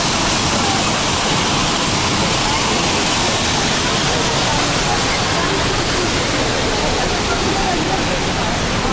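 The Düden waterfall in Antalya roars from inside the cave behind it, a loud, unbroken wash of rushing water that fills everything without letting up.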